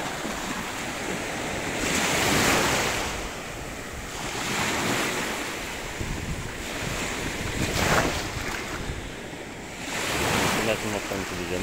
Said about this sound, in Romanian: Valurile mari. Puțin agitată mai am de dimineață,